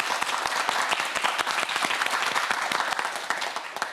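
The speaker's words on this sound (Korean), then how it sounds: "큰 박수 보내주세요." Students at a televised science quiz show clap energetically, a crisp, dense burst of many hands with distinct sharp claps standing out throughout.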